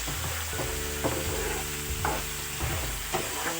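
Four small tomatoes frying in a pan for chicken 65 curry, a soft steady sizzle with a few stirring scrapes.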